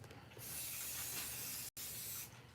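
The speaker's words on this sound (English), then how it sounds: "I'm sort of just going to spray" A steady, close hiss of spray aimed at an epoxy tabletop surface with a rock edge, running for about two seconds with a brief cut partway through, no voices.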